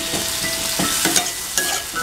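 Onion and green chilli frying in oil in a pan over a low-to-medium gas flame, with a continuous close sizzle broken by the scrape and clatter of a spatula stirring.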